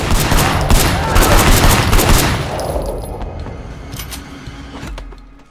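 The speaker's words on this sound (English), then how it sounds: "We're now switching seamlessly from a hand-to-hand combat mission to a shooting mission" Dense rapid gunfire from a shooting mission in the Sleeping Dogs action game crackles loud and close for over two seconds, then thins into scattered, fading shots.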